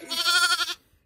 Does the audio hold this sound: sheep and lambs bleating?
yes